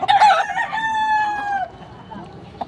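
A rooster lets out a single drawn-out crow up close, preceded by brief clucking from chickens, with faint noise after the crow fades.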